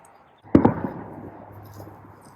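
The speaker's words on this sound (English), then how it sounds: "Yep, you can hear the fireworks starting." Fireworks go off at a farm where chickens are kept, a few sharp crackling bangs in quick succession at moderate distance, followed by a fading rumble and scattered faint pops.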